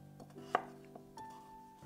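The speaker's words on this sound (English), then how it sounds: "I'm going to cut the carrots in big chunks" A knife chops carrots into big chunks on a cutting board for a Vietnamese beef pho broth, giving a few quiet, separate knocks, one sharper than the rest, with no talking.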